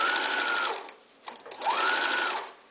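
A sewing machine stitches quilt binding at an angle in two loud, steady bursts separated by a brief pause, its motor whine rising and falling with each run.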